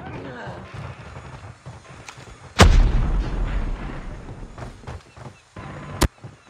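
A sentry gun in Call of Duty Mobile fires at enemies during a 5 vs 5 match: two sharp, loud gun blasts ring out a few seconds apart over scattered softer battle noise.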